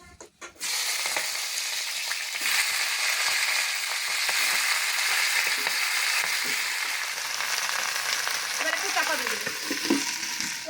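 Vegetables sizzle loudly and continuously in hot oil with dry chilli and spices, with occasional stirring scrapes in the pan.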